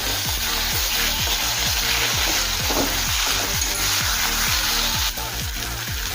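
Onion frying with ginger paste, garlic paste and tomato for chicken kosha, a steady loud sizzle over repeated rhythmic scrapes of a spoon stirring through the pan, with no voices.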